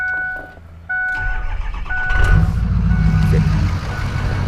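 Ford 6.0 Powerstroke diesel pickup with EGR delete: beeping chimes sound first, then the engine cranks and fires, settling into a loud, rough, rumbling idle that stays steady and close.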